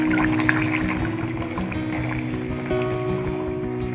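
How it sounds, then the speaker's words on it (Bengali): Water pours into a pan of chicken leg pieces with thinly sliced potato and papaya, making a continuous splashing, gurgling rush that stays steady and fairly close throughout. "এই পর্যায়ে জলটা দিয়ে দেবো।"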